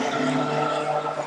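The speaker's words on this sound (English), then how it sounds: "Lee Jordan next to screech past us here in the main stand" Stock car racing: a stock car screeches past the main stand, a continuous loud tyre squeal and engine roar filling the whole moment with no voices over it.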